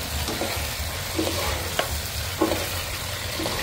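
Pork stir-fries over high heat, with a steady sizzle broken by several sharp spatula scrapes and clacks against the pan, moderately loud and without speech.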